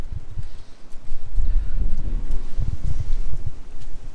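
Wind in Wales buffeting the microphone in low, uneven gusts, with some faint rustling and thumps underneath.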